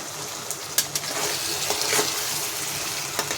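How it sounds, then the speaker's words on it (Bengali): Water is poured into a pan of mustard paste while cooking, a brief continuous gushing pour with a few light clinks, close and fairly loud. "এবার আমি জল দিয়ে দেবো একটু"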